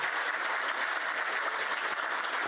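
Steady audience applause at a music school event for disability day in Volos, a full room clapping evenly and continuously at moderate volume.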